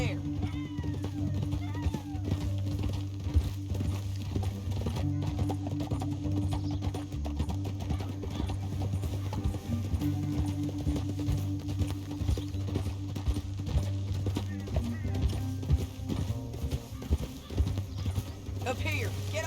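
Horse hooves clip-clop steadily on the ground in Red Dead Redemption 2 gameplay, a continuous rhythmic trot under a droning low musical score, with occasional snorts.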